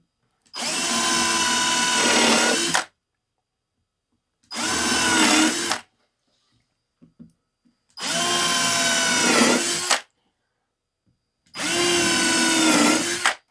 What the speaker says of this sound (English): we're gonna go ahead and pre-drill. We're gonna countersink these screws